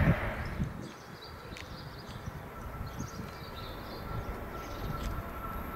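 A train rumbles in the distance and draws closer to a station platform, a low steady rolling noise with faint metallic clacks, fairly quiet throughout.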